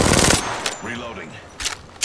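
Automatic gunfire bursts in the video game Apex Legends, a dense burst at the start followed by a few sharp single shots, with faint voices between them.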